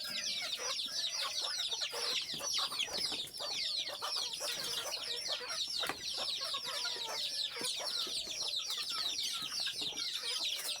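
A flock of domestic chickens on a Bangladeshi deshi hen farm cluck and chatter continuously and loudly throughout, with many overlapping calls close by.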